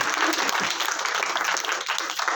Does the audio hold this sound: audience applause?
yes